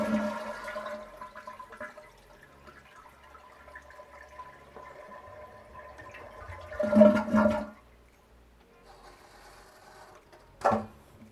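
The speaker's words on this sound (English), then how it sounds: "Now that the water's off, flush your toilet." A toilet flushes with a rushing, gurgling swirl of water that swells and drains away, followed by quiet trickling and a final short splash.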